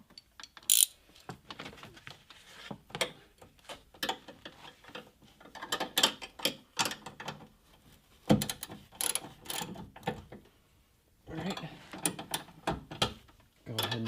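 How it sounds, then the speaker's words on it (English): A nut and bolt are tightened by hand on a BMW F30 during a power trunk retrofit, with bursts of quick ratcheting clicks separated by short pauses, close to the microphone and otherwise fairly quiet. "now we can go ahead and tighten everything up"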